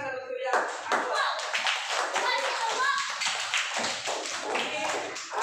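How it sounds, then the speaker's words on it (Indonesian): Children clapping together in a classroom, a dense rhythmic patter of small hands that runs steadily throughout, with young voices chattering underneath. "Tepuk tangan untuk yang awal"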